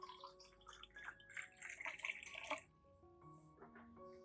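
Clean water poured into a blender holding aloe vera and rice for an orchid tonic, quiet splashing and gurgling with trickling drips, the flow stronger at first and then tapering into light dripping.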